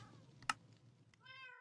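A cat meows in a video game, with a sharp click first and then a single clear, drawn-out meow at the end, fairly faint.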